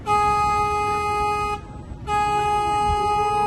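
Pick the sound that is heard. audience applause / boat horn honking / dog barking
boat horn honking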